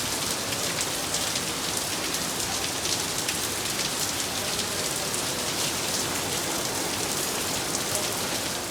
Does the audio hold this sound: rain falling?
yes